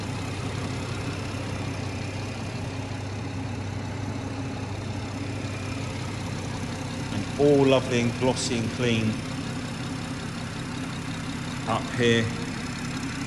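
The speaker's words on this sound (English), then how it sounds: "Very smooth engine." A BMW 340i M Sport Shadow Edition Touring with automatic gearbox idles in a steady low hum throughout, with a person speaking over it partway through.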